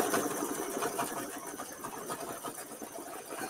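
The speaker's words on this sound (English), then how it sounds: "And I'm going to let it stitch the little sparkles." A single-needle embroidery machine stitches small sparkle shapes on a mini quilt, its needle tapping in a fast, steady mechanical rhythm, close and moderately quiet with no talking.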